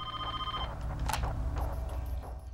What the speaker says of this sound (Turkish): rahatsız edici bir telefon geldi.